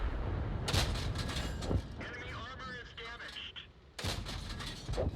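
Tank gun shots in World of Tanks from a Thunderbolt VII: two loud booming blasts with rumbling tails, separated by a few seconds of engine and battle noise, a voice talking underneath.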